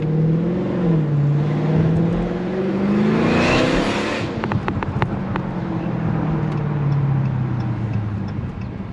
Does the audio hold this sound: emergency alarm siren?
no